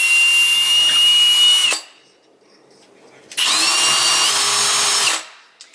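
Power drill driving wall anchors into holes for DIY kitchen pantry shelves, running in two loud sustained bursts of about two seconds each with a pause between.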